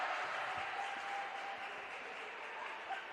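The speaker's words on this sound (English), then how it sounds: "Some confusing applause from the Concordia side." Faint, distant applause from basketball fans on the Concordia side of a women's college basketball game against Cornerstone University, a low steady patter of clapping in a gym with no clear voices.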